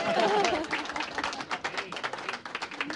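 Audience members clap after remarks at a business and society panel in a tent, scattered applause of moderate loudness with a voice speaking at the start and murmuring underneath.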